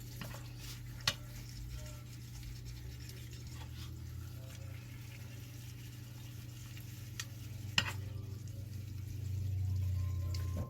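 Candied sweet potatoes (mattang) are stirred in a pan, giving soft scraping and light clinks over a steady low hum and faint sizzle, with no talking.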